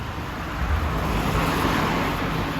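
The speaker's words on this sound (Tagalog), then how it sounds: "Kaso busy eh. Maraming sasakyan." Busy road traffic rolls past in a dense, continuous roar of many cars and vehicles, loud and close, with no talking.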